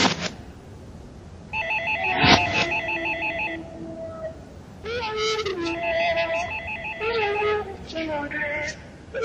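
A telephone rings in repeated bursts, with a second ringing pattern joining later, while people talk faintly in the background.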